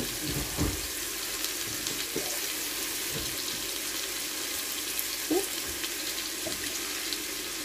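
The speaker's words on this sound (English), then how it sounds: "And I'm just going to put a bit more water in that." Tap water runs steadily into a pot of vegetable soup with diced tomatoes, a constant close hiss with a few light splashes and no talking.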